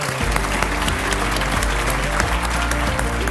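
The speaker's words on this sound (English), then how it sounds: "with another round of applause" A youth awards ceremony audience claps in a sustained round of applause, dense and loud from start to finish, with no talking over it.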